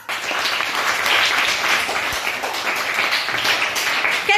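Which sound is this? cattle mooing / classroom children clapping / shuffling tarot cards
classroom children clapping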